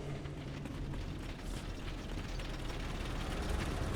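Machinery of the Mach 78 Black Blood Extractor in World of Warcraft churns steadily, a dense grinding and ratcheting mechanical clatter that holds at an even level throughout with no voices.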